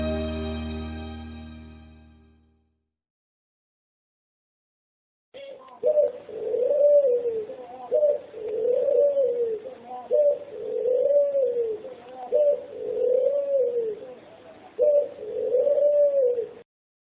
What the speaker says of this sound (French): La colombe.